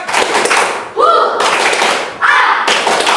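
Classroom of young students doing a rhythmic spirit clap, bursts of loud group clapping separated by short chanting voices, close and energetic.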